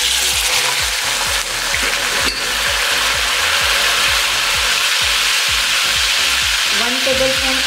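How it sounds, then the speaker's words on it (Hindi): Mutton pieces hitting light golden fried onions in a hot pan for pulao, a loud steady sizzle with rhythmic scraping and stirring strokes throughout, no talking. "अब इसमें मटन ऐड करेंगे,"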